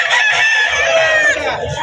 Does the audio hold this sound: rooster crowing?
yes